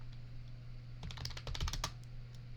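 Quick bursts of typing on a computer keyboard, a dozen or so sharp clicks clustered in the middle over a low steady hum, close and fairly quiet with no voices.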